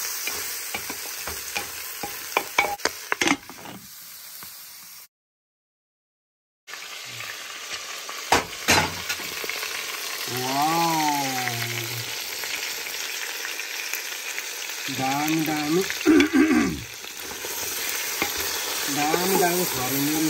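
Pork leg fries in a pan with a continuous sizzle while it is stirred and scraped with repeated clatters; a brief silent gap breaks the sound early on.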